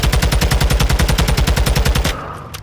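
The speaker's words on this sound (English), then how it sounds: "Someone else is shooting on another wall." Rapid automatic gunfire from Call of Duty: Modern Warfare II, a loud, steady stream of evenly spaced shots for about two seconds before cutting off abruptly into quiet.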